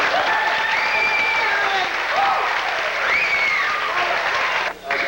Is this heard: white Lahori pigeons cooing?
no